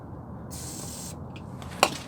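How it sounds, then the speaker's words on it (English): Aerosol penetrating oil is sprayed onto the axle bolts of a Jeep XJ Dana 30 axle in a steady hiss of about a second and a half, close, followed by one sharp tap. "So we're going to kick off this project by soaking it in penetrating oil."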